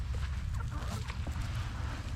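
Chickens cluck softly while scratching for scattered feed outdoors, with scattered faint clucks over a low, steady rumbling background.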